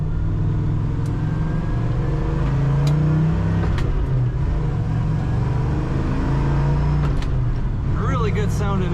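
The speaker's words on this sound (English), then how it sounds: "A really good sounding exhaust on this car." A 1964 Chevrolet Chevelle Malibu SS with a five-speed manual drives along, its exhaust giving a steady low rumble throughout, with a voice talking over it near the end.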